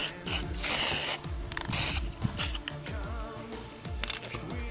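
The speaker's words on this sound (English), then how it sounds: "I'm gonna go outside and I'm gonna spray paint these" Spray paint is applied outdoors to a floral headband in short hissing bursts, close and loud, separated by brief pauses and the rattle of the can.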